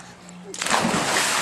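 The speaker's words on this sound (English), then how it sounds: "Man, that was a big splash." A sudden big splash as something plunges into water, followed by sloshing and churning water.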